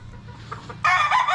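Chickens selected from a backyard flock cluck loudly and close by, a dense burst of hens' calls coming in after a quieter stretch of low farmyard background.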